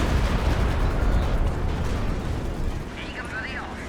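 A Stuka dive bomber strike in Company of Heroes 2 lands as a loud, dense explosion, a sustained rumbling roar that fades slowly over a few seconds with faint higher tones near the end.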